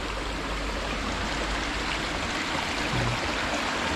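Water streams steadily and loudly through a rural water source being cleared and cleaned in the countryside, a continuous broadband rush with no voices over it.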